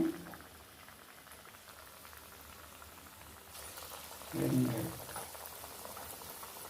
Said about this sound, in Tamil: குட்டி குட்டி உருண்டையாக நான் ஊற்றி இந்த எண்ணெயில் போடுறேன்